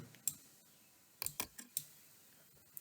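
A computer mouse clicks several times on a desk, sharp and close: one early click, a quick cluster of three or four in the middle, then one or two more, with quiet pauses between.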